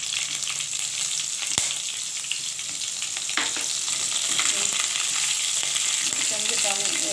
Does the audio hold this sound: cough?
no